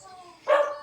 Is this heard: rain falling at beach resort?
no